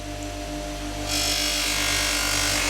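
A polishing motor fitted with a buffing mop hums steadily, then rises to a louder, brighter whirring rush partway through as it picks up, continuing close with no speech.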